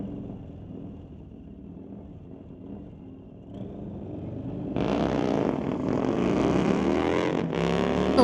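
Harley-Davidson motorcycle launching into a wheelie on a drag strip, a steady distant engine drone that swells into a loud, rough roar as it accelerates hard away.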